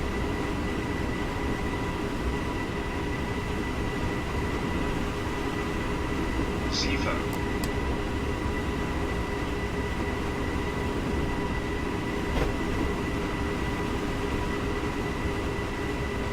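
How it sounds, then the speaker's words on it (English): An S-Bahn BR423 electric train runs steadily on the Munich–Augsburg line in Train Simulator 2016, a continuous rolling rumble with faint tonal hum and a couple of brief clicks, with talk intermittently over it. "So I don't know if this is an S-Bahn journey, even though we're on an S-Bahn train"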